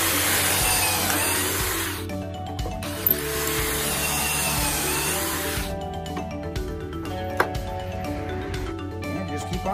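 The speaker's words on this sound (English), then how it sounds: "You just kind of drill all the way down through until this collar hits the bottom here." A power drill bores Kreg pocket holes in wood, whirring in loud bursts, stopping and starting twice, with a lower mechanical hum and faint clicks between the runs.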